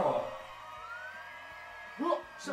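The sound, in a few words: police siren in a VR bar brawl video game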